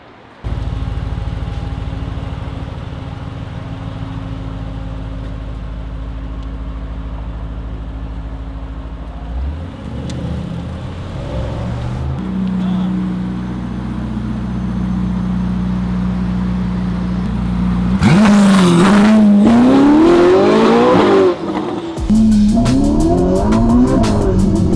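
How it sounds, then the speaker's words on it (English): Ferrari SF90 Stradale driving, a steady engine drone that builds into loud revving with rising pitch sweeps and tire noise near the end, close and powerful. "In the beloved Ferrari SF90 Stradale."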